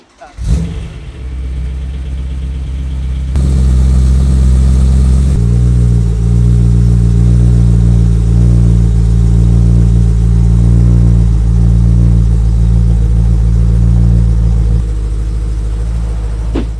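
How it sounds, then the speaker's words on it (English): A big V8 engine in a BMW M3 wagon starts and revs up, then holds a deep, loud, raspy titanium exhaust drone near the microphone before easing back. "that titanium just has a unique sound to this big V8 motor"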